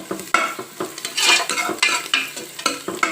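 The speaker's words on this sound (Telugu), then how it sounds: "ఇప్పుడు కడిగి క్లీన్ చేసుకున్న కాళ్ళు ఈ నూనెలో మంచిగా వేయించుకోవాలి" Cleaned mutton trotters fry in hot oil with a steady close sizzle, while a utensil stirs and scrapes through the pan in repeated bursts, and no talking.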